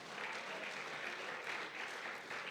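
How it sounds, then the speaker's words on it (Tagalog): Church congregation applauding during a worship service, a steady, even wash of clapping heard at a distance and fairly faint throughout. "Palakpak sa Panginoon."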